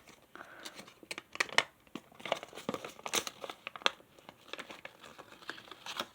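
Paper folded and creased by hand while making an origami fox, close crinkling and crisp pressing sounds in quick irregular bursts, with no talk.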